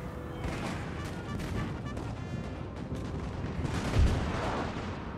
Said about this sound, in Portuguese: o canhão tá atirando a gente a queima-roupa.